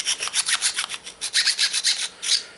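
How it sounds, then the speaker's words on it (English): A round rat-tail file rasps back and forth inside a small opening to clean off burrs, giving a steady run of about fifteen close, fairly loud strokes with no voices. "you can also use chainsaw files, anything that's a round file, a rat tail file, anything that'll get inside there and clean it up and get all those burrs off of it"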